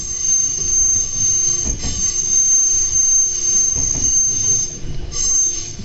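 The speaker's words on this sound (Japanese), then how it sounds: "This train is the Connected Express Yukemuri, bound for Nagano." Nagano Electric Railway's Yukemuri limited express running on rails, with loud continuous high-pitched wheel squeal over a steady rumble throughout.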